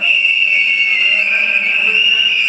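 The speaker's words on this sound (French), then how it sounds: "L'opposition sort les sifflets pour bloquer les débats sur la loi électorale" Opposition members in the Congolese parliament at the Palais du Peuple blow whistles in a loud, continuous, shrill chorus that fills the chamber without pause.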